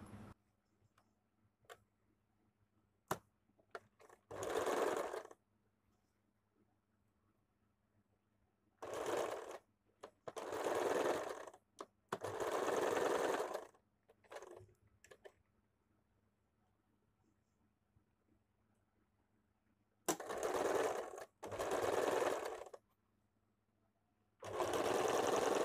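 A sewing machine stitches the back piece of a princess-cut blouse together with its lining, running in several separate bursts of a few seconds each with quiet pauses and small ticks between them, close and alone.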